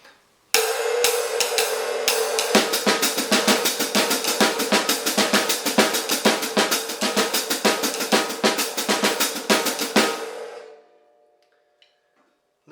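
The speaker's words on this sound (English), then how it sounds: "Next example, snare drum reads, hi-hat fills in the missing triplets." Jazz drum kit with the snare reading a syncopated line while the hi-hat fills in the missing triplets, a steady, close stream of crisp hits running about ten seconds without talk, then stopping.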